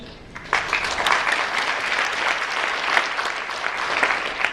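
Sustained applause from an audience at the 2012 World Fantasy Awards ceremony, steady clapping from a full room that continues for several seconds.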